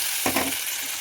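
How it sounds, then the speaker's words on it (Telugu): Tempering (tadka) for pappu pulusu sizzles loudly as it hits the hot lentil broth, a brief burst of frying over a steady background hiss. "పప్పు పులుసు కాబట్టి మనం ఇప్పుడు తాలింపు వేసుకుందామండి"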